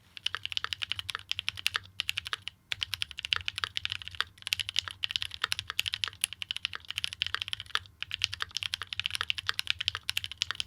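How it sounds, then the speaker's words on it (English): Steady, fast typing on a Keychron Q2 mechanical keyboard fitted with lubed switches and switch pads, a continuous run of crisp close keystrokes with one or two brief pauses and no talking. "this is what the board sounded like with lubed switches and the switch pads from KVD"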